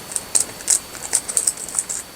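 Scissors cut paper for an Alice in Wonderland 8x8 Dutch door spread, making a quick run of about a dozen crisp, light snips in a steady rhythm, close but faint, with no talking.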